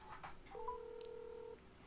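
A phone dialing out for a call: a short run of touch-tone beeps followed by one longer steady tone, quiet and close.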